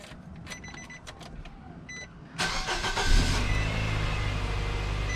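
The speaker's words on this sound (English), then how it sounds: "So I'm going to start up the vehicle." A 2010 Nissan Sentra engine cranks and starts with a whir, then settles into a steady close idle after a few faint clicks and handling noises.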